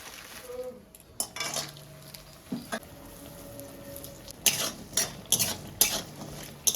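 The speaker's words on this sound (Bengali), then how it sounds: "আর এদিকে কড়াইয়ের মধ্যে তো বড়িটা ভাজবো আর গরম গরম বড়িটা ভাজছি" Lentil dumplings frying in a wok with light sizzling, punctuated by several sharp clinks and scrapes of a utensil stirring against the pan.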